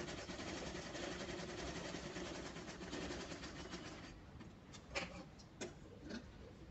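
A sewing machine runs steadily and continuously at close range, double-stitching a seam on a folded length of cloth, its fast mechanical chatter broken by a few sharp clicks near the end.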